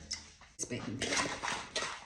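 A metal baking pan is set down and shifted about on a counter in a few brief clattering knocks, with a voice talking throughout.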